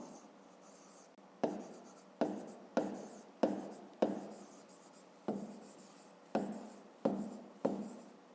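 Pen strokes of handwriting on paper, written as a child's maths exercise on multiples is worked out, come as ten or so short scratchy bursts in an uneven rhythm, close and fairly quiet, with no voices.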